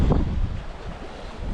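Wind blowing over open water during night jigging for predatory fish, a steady low rumbling rush of wind buffeting the microphone, fairly loud and continuous with no voices.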